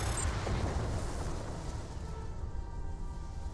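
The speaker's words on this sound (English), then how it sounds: "Explosions in space." Explosions in space in the video game Star Trek Online, a sustained low rumbling boom with crackling debris that stays loud, then eases slightly toward the end.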